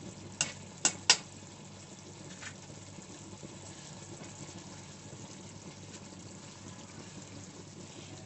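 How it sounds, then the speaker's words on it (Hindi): Kasuri methi being stirred into simmering mash dal in a pot, a few sharp spoon knocks early on, then a soft steady bubbling sizzle continuing quietly with no voices. "इसे अच्छे से मिक्स कर लेती हूँ।"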